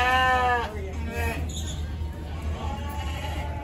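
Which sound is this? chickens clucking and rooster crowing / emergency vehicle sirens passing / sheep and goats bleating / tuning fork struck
sheep and goats bleating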